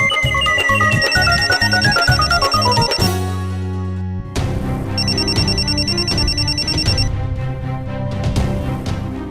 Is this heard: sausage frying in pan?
no